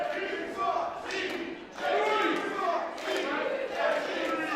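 Wrestling crowd cheering and chanting for TJP during a Relentless Heavyweight Championship match against Filthy, a loud, sustained roar that swells and dips in waves.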